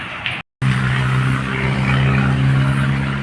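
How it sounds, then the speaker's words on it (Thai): A Toyota LN106 4x4 pickup with a solid front axle runs nearby, its engine a steady, close, low hum with one brief dropout near the start. "นี่ก็ติดเครื่องนะครับ"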